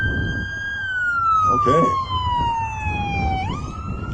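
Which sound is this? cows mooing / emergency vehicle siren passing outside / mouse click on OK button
emergency vehicle siren passing outside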